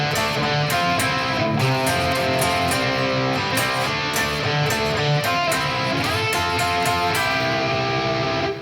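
Electric guitar plays a double stop section in drop D tuning, two-note figures ringing together in a steady, dense and loud passage with no talking.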